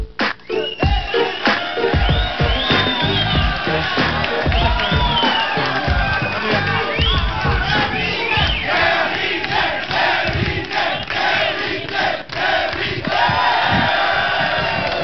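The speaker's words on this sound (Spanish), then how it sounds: "Un aplauso para Michelle, que venga" A talk-show studio audience cheers loudly and continuously, with dense shouting and whoops filling the whole stretch and no break.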